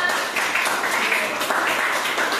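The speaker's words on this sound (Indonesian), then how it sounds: "Beri tepuk tangan untuk Rama" Classroom applause for a student named Rama: a dense, steady wash of many hands clapping together at close range, filling the whole moment without any talk over it.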